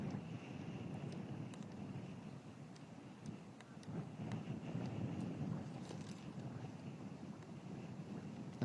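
Strong wind gusts across an open golf course during a women's amateur championship, with a steady broadband roar and flag fabric flapping, sustained and fairly loud throughout without talk.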